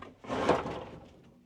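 A door in an old Portuguese manor house being pressed hard to open, one short scraping rub, close and fairly quiet, with no talk.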